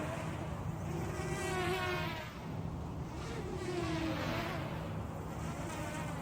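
A Crazepony 210 quadcopter drone's motors whine at about 70% throttle in a sustained insect-like buzz whose pitch rises and falls as the craft flies.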